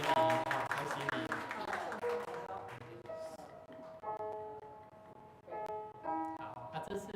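A congregation claps hands during a Sunday Taiwanese-language church service, a dense burst of applause mixed with voices and ringing musical tones, loudest in the first couple of seconds, then fading under talk.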